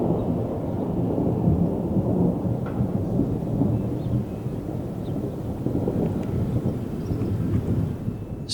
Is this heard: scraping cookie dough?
no